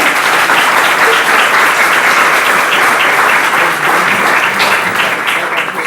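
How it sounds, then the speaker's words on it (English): A luncheon audience at a youth enrichment program event gives a sustained, loud round of dense applause for the show's leader, steady throughout with no break. "Let's give a round of applause for the leader of this show, Ms. Stephanie Maxwell"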